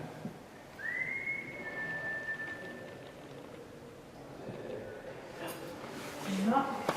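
A person whistles in a prison corridor at HMP Shrewsbury during a ghost hunt: a single rising then sustained whistled note a couple of seconds long, fairly distant, with faint movement and voices nearby.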